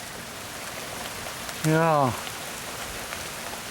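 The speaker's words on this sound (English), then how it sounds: "Well, it is definitely raining." Steady rain falling outside a workshop, a constant close hiss of drops on surfaces, briefly interrupted by a short spoken word.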